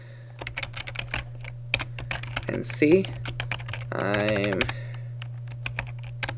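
Keys clatter on a computer keyboard in quick, uneven bursts of light clicks while a person talks over the typing.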